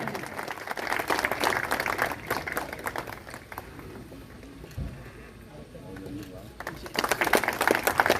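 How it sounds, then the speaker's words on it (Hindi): Audience applause at an award ceremony in Bihar, a crowd clapping in uneven bursts that thin out in the middle and swell again near the end, with voices and ambient noise mixed in. "तालियां रुकनी नहीं चाहिए, तालियां बजाते रहें।"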